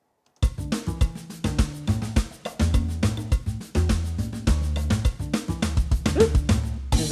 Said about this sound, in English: I'm just going to play just the rhythm section with the bass.